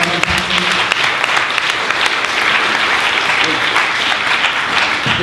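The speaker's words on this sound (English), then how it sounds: "I really want to give everybody a round of applause" An audience at a memorial gathering claps warmly and steadily, a dense wash of applause sustained for several seconds at close range.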